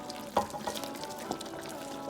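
Roughly blended okra poured into a pot of seafood okra soup, a quiet, brief wet slop with a few soft splashy bumps, close by and without talk.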